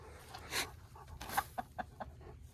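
Hens clucking softly as they are fed scratch grain outdoors, with a few short, faint clucks and low calls scattered over a quiet, rustling farmyard background, with no talking.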